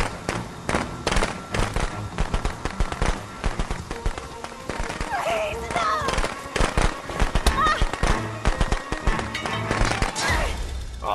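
Fireworks explosions and blasts in Friday the 13th: The Game come as a dense, uneven series of loud pops and bangs, near and harsh, with players' voices mixed in among the bursts.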